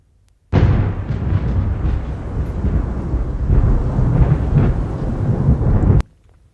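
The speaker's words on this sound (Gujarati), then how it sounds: "અને હવે વાત કમોસમી વરસાદની" Thunderstorm with unseasonal rain in Gujarat: a loud, continuous rumble of thunder and heavy rain starts abruptly and fills the whole stretch at steady strength, then cuts off sharply near the end.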